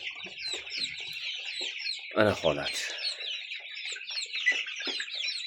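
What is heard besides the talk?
two-month-old black Andijan chickens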